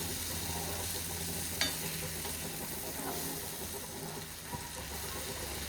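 A spoon stirs milk into roasted semolina in a pan for mango sheera, giving a steady low bubbling sizzle with soft scraping and one or two brief clinks, close and without talk.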